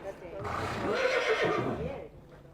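A horse neighs at an animal shelter, a drawn-out whinny that rises and falls over about two seconds, moderately loud and fairly close, with faint background noise around it.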